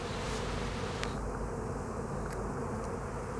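Steady, close buzzing hum of many honey bees at an open hive entrance, continuous and dense, with no voices.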